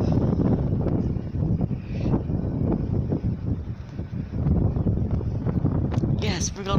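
Strong wind buffets the microphone at Westbury railway station, a steady low roar throughout, with a person talking over it.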